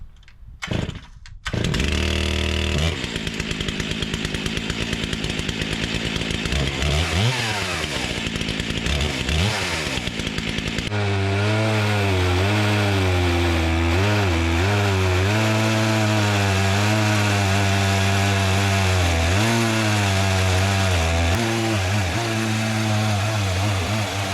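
Stihl MS661 chainsaw cutting logs outdoors in the woods, loud and close, opening with short revving bursts before settling into a long sustained cut whose pitch wavers as the bar bites through the wood.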